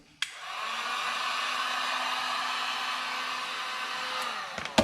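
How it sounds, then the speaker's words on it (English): A heat gun blows hot air onto a nylon fuel line on a 2003–2006 Silverado fuel pump, switching on with a click into a steady loud whirring hiss that holds evenly for several seconds before clicking off. "a little heat with the heat gun on the nylon line shouldn't hurt anything"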